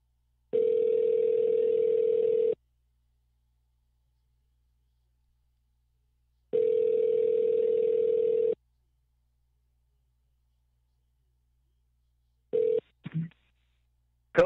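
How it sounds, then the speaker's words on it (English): A telephone call rings out on the line: two long, steady ringback tones about two seconds each, separated by silence, then a short clipped burst and clicks as the line connects, loud and with no talking. "I'm going to get him on the phone here."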